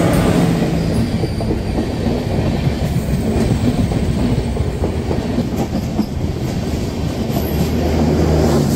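The 13147 Uttarbanga Express rolls along the rails at night between Sealdah and New Farakka Junction, with a continuous loud rumble and clattering wheel noise heard from inside a crowded general carriage.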